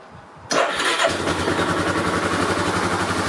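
A Yamaha Terrapro ATV engine cranks and catches after a brief quiet moment, then settles into a steady, rhythmic idle, close and fairly loud.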